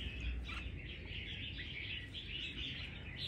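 Captive red-whiskered bulbuls from Lang Son chirping in quick, repeated high tweets over a steady low background rumble, fairly close and continuous, with no one speaking.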